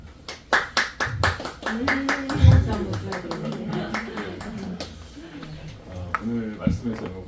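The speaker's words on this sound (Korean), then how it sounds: "우리 박수 한번 줄까?" A church congregation claps in a quick, uneven burst of separate hand claps close by, with voices talking throughout.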